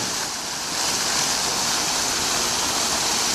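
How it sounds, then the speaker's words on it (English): A water fountain inside Beijing Airport produces a steady, fairly loud rushing splash, a broad continuous wash of falling water with no voices. "I had to show everybody this water fountain"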